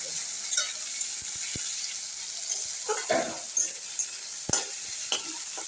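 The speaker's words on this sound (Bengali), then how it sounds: "লাল লাল করে আমি ভেজে নিই পেঁয়াজ" Onions frying in oil for chicken biryani make a continuous bright sizzle up close, broken by scattered clicks and scrapes of stirring and a few sharp spatula taps.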